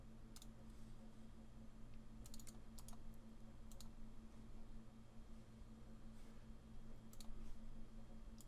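Someone types a gift card access number on a computer keyboard: faint, sparse key clicks in small clusters over a low steady hum, quiet and close, with no talk.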